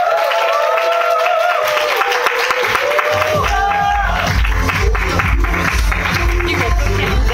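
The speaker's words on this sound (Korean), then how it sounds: "유미 리더님 큰 박수로 모셔볼게요" An audience applauds and cheers as a speaker is welcomed onto the stage at a talk, a loud crowd of clapping with whoops, under music and voices.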